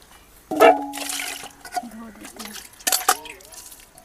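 Water pours onto green mung beans in a metal pot during washing for traditional village cooking, a short splashing burst followed by lighter sloshing and clinks, with a person speaking over it nearby.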